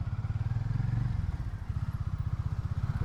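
A motorcycle engine runs nearby during New Year's Eve celebrations in Rajahmundry, putting out a steady, throbbing pulse that dips briefly in the middle and then resumes at an even rhythm.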